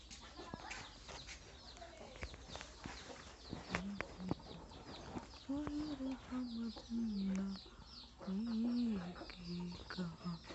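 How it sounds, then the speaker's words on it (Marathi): Backyard chickens at a rural farm with goats and sheep nearby, giving soft clucks and short calls in intermittent bursts, mid-distance, with outdoor background noise and a person talking faintly. "आणि हे इकडं आपली कोंबडी आहे"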